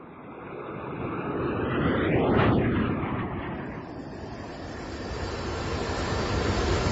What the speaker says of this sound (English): Well, jet fighters aren't famous for their creature comforts, Mr. Hinkman.